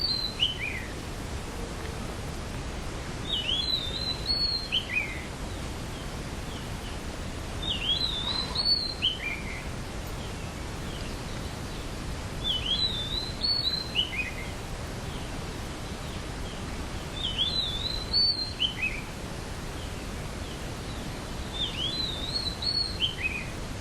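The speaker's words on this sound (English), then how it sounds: "We hear the sound of the birds." Birds chirp in short bursts of high, quick notes repeating every few seconds over a soft, rustling outdoor background.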